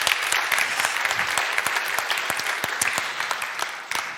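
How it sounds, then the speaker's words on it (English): Sustained audience applause following a TEDx Salon talk at KTH, steady dense clapping from a room full of people, moderately loud and continuous with no voices over it. "So a warm applause for Astrid Stenberg, everyone."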